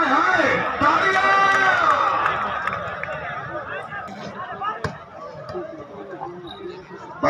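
A stadium crowd at Dhap Stadium in Dera Ismail Khan cheering and clapping during a match between Malik Shoaib Awan Rizu Khan and Jon Shah, a loud swell of cheers that eases into steady babble, with a voice calling out over it.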